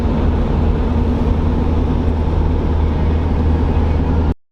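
Mitsubishi L200 pickup with 249,000 km driving on the road, a steady loud rumble of engine and road noise throughout with no voices, cutting off abruptly at the end.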